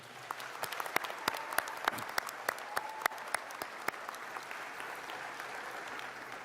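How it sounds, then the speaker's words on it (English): Audience applause for parents, grandparents and guardians at the River City Science Academy Class of 2021 graduation ceremony: fairly quiet, scattered clapping with distinct individual claps standing out over a soft crowd wash. "Let's give a round of applause to all parents, grandparents, and guardians."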